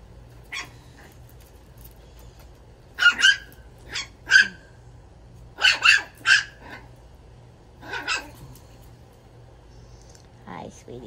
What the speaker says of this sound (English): often called play growl, but it's, you know, sometimes it sounds like a growl, but it's not